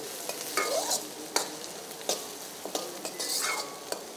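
Tomatoes and onions sauté in a pan for a Tamil vada curry, a close hiss of frying broken by repeated scraping strokes of a spoon against the pan, with no voices.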